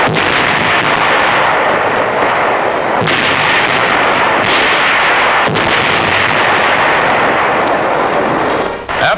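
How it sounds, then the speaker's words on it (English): Artillery and bombs pound Saipan during the naval and air bombardment of the island, a loud, dense, continuous roar of blasts and heavy fire with a few sharper bangs standing out. "After 4 days of air and naval bombardment, United States Marines take over."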